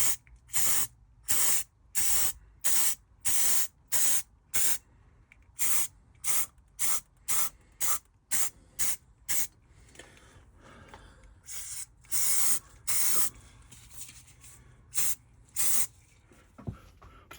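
Spray paint is dusted onto a Corgi diecast Batmobile in short, regular hissing bursts, about twenty quick sprays close to the mic with brief pauses between them.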